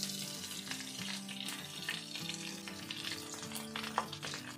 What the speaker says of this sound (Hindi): कबाब चारों तरफ से अच्छे से फ्राई हो गए